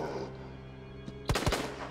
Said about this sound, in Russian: почему два выстрела и всегда мимо?